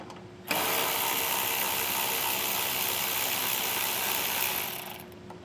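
A ratchet works on 10mm bolts inside the wheel well of a 2024 Chevrolet Tahoe, giving a steady, dense whirring buzz that holds for about four seconds at close range before tapering off.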